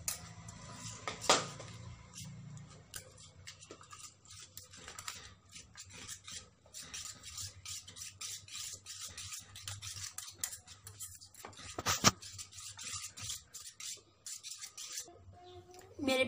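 Finely chopped tomato is mixed in a bowl: a quiet, continuous stream of utensil scrapes and light clinks against the dish, with a few sharper knocks.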